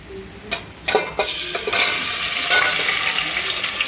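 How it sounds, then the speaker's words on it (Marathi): Fish pieces dropped into hot oil in a pan, a few clinks and splashes followed by a loud, sustained crackling sizzle that fills the space up close. "आणि आता त्याच्यामध्ये मासे सोडत आहे तेलामध्ये."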